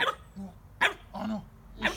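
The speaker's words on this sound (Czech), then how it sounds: "Ještě štěky." A dog barks in short, sharp bursts during a play and motivation training session, close by, with a person talking between the barks.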